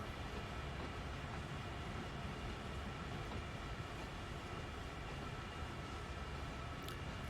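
Coal wagons in Train Sim World 2 rumble steadily through loading at Horseshoe Curve, a dense continuous rail drone with faint clatter and a brief high tone near the end.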